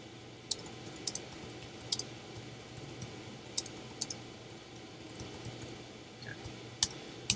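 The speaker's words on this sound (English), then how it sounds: "I'm typing too quickly here" Fast typing on a computer keyboard: faint, scattered key clicks come in quick irregular bursts over a quiet background, with no voices.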